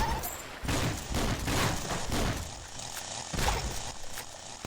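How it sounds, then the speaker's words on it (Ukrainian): Heavy artillery fire in the mobile game Swamp Attack, a dense run of loud, overlapping booming blasts that keeps going throughout, close and forceful, with some voice underneath. "Ой, це ж тяжка артилерія"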